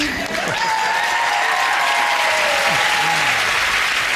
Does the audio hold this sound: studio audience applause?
yes